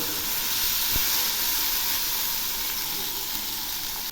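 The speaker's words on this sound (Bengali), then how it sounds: "সবজিগুলো থেকে তেল ছেড়েছে। আর একটু ভেজে নেব।" Vegetables frying in oil in a pan for a Bengali batashi fish curry, a loud, steady sizzle and hiss running unbroken from start to finish, with no voices.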